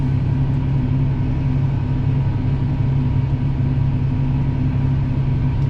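A diesel engine, apparently in a tractor during soybean planting, runs steadily at about 1300 RPM, a constant low rumble with an even hum that stays uniform throughout, heard from inside with no talking.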